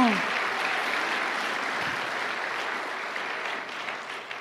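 A church congregation applauds at a Tagalog preaching service, a steady, dense wash of clapping that holds evenly throughout, with a brief voice at the very start.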